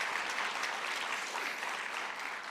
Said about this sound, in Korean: 우리 귀한 찬송 주신 우리 할렐루야 찬양대에게 박수를 다시 한번 부탁드립니다